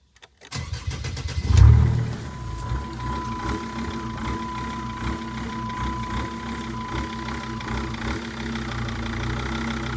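A car engine cranks and starts after an oil pan gasket replacement, then settles into a close, steady idle with slightly wavering revs and mechanical ticking. No one speaks.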